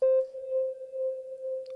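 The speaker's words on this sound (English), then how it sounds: "So that is the test note sine wave being set to channel 4 on my desk." A steady sine wave test note routed through a channel of a mixing desk holds one pure, unwavering mid-pitched tone for under two seconds. It starts abruptly and stays clean, close and constant, with no talking.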